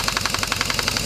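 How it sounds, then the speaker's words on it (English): Air compressor running in a workshop during a Citroen C4 Grand Picasso driveshaft job, a steady close mechanical chug with a fast regular pulsing rhythm, alone without talk. "my compressor's just kicked in"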